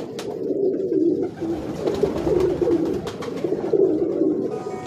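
Pure-bred pigeons coo steadily in low, rolling phrases, close and fairly loud, several birds overlapping without pause and no voices over them.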